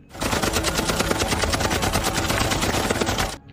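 A rapid, loud machine-gun burst from a military attack on Taliban fighters in the film The Day of the Jackal, with dense rhythmic shots firing continuously for about three seconds before stopping abruptly.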